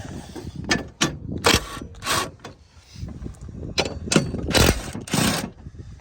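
An impact wrench works 13 mm battery fasteners loose on a 2005 Volvo XC90, with several short, sharp mechanical bursts separated by brief pauses.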